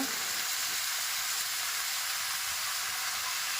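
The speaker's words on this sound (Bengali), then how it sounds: "পটল আলু গোটাকে দিয়ে দেবো আমি তেলের মধ্যেই ভালো করে নাড়াচাড়া করে নেবো" Constant bright hiss of potato and pointed gourd pieces frying in oil, steady and close, with no voices.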